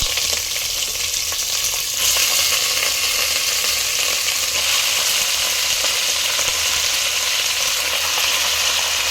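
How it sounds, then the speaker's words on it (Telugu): Chicken pieces frying in a pan for a village-style chicken saaru, with a loud, continuous hissing sizzle that swells briefly as the pieces go in and then holds steady. "ఇప్పుడైతే కొంచెం చికెన్ వేస్తానండి."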